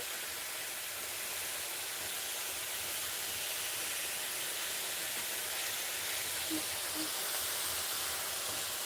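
Cabbage frying in a pan, a constant airy hiss of steam and sizzle held evenly throughout, close and unbroken, with a couple of faint clicks near the end.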